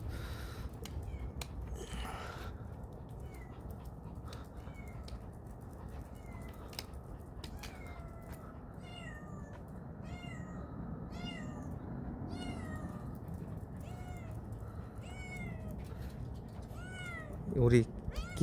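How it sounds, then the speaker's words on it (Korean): A stray cat that often visits the house meows in a series of short, fairly faint cries spread across the stretch, while people talk quietly in the background and a louder burst comes near the end. "고양이 우리 집 자주 오는 깃고양이"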